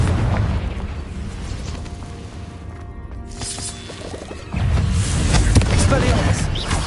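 Confringo fire spell explosions in Hogwarts Legacy on PS5: heavy booming blasts and crashing debris, a loud rumbling burst, a calmer stretch, then a second sustained roar of explosion noise near the end.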